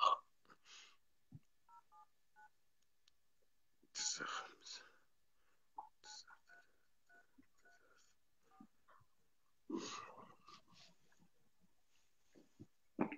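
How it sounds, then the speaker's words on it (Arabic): Phone number being dialed, short keypad tones in scattered groups, faint and close, with quiet whispering in between. "خليني اعمل معه اتصال بعد اذنك اخوي ابو خليل."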